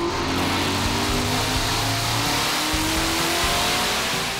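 A supercharged Chevy Corvette Z06 revs hard on a Dynojet chassis dyno, its engine roar loud and close and climbing steadily in pitch throughout, with no voices.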